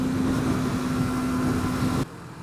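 A 2017 Suzuki GSX250R motorcycle cruising in sixth gear at 70 mph around 8,000 RPM, a steady loud engine drone with wind roar, holding even before dropping away sharply near the end.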